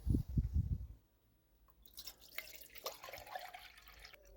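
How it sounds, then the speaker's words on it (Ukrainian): Half a litre of water pours steadily into a pot for a camping gas stove test, with a splashing, trickling rush after a brief dull knock and a pause; fairly quiet and close. "Знову наливаю пів літри води."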